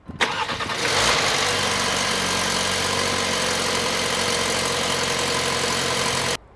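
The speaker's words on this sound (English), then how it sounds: "So we're gonna compare engine sounds on startup." A 2019 Audi Q3 engine cranks and catches with a short burst, then settles into a steady, even idle heard up close and alone for about five seconds before cutting off.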